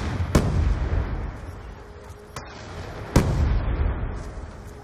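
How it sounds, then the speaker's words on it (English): Video game grenade explosions during a tense team firefight, two sharp booms with a lighter crack between, each trailing off into rumbling noise. "Grenade!"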